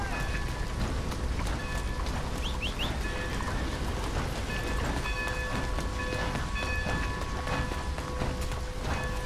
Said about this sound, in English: Otherwise I have to wait for this whole train to pass in a snail space.